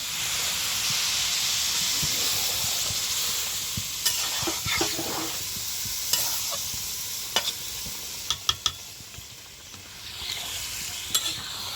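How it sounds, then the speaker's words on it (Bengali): Water poured into a pan of fried rice while making sweet pulao, with a strong steady sizzle and hiss that fades, followed by scattered light clinks and scraping of a utensil against the pan. "এবার দিয়ে দেবো পরিমাণ মতো জল।"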